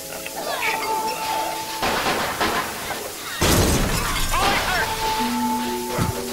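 Glass shattering in Bioshock Remastered, two loud breaking crashes about a second and a half apart over a game soundscape with talking.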